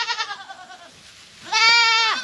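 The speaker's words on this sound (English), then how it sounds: "We've got pygmies, which go for pets, like Sydney." A pygmy goat bleats twice, a wavering call followed by a brief pause and then a louder, closer, sustained bleat, with no talking over it.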